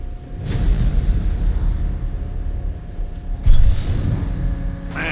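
A car engine in Need for Speed 2015 rumbles steadily and loudly up close, with a surge partway through as the revs climb, no voices over it.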